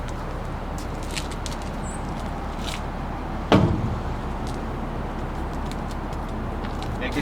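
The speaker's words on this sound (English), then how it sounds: "Making sure I close my door securely" A single solid slam as a truck's cab door is shut firmly, loud and close, set against a steady low idle rumble and quiet outdoor background.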